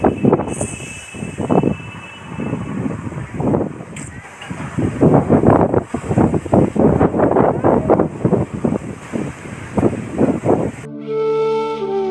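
Strong wind blows outdoors, buffeting the microphone in loud, gusty rumbles that rise and fall for most of the stretch before cutting off abruptly at the end.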